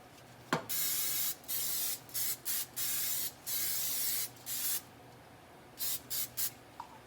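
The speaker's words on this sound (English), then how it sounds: "Spray it with some Pam." Short hissing bursts of Pam cooking spray onto an air fryer sheet, about a dozen quick sprays in a loose rhythm, close and clear with no talking.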